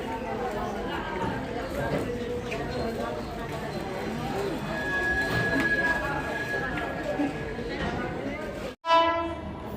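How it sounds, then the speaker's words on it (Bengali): A mail train rushes through a railway station with a steady rumble and clatter of wagons, and a long sustained horn blast partway through. The noise is loud and close, then cuts off abruptly near the end. "আমাদের ট্রেন আসার সময় একটা মেল ট্রেন চলে যাচ্ছে"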